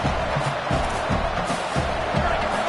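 Home crowd at a football game roars in a steady, broad wall of cheering, with a voice talking beneath the noise.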